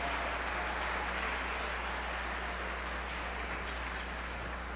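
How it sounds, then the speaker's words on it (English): Steady, dense applause sounding like a crowd clapping continuously at a moderate distance, without pauses, like a soft patter of rain. "If we can have a round of applause actually for our servers"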